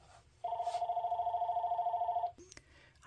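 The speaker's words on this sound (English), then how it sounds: "Oh, there goes our phone." Landline telephone bell rings once in a steady electronic trill lasting about two seconds, fairly close and clear over a quiet room hum, followed by brief handling noises.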